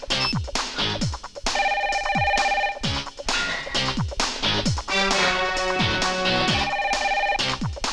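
Repeated electronic telephone ringtone plays in bursts across the clip, loud and close, with other scene sounds mixed in from a Telugu film scene just before a call to a bank.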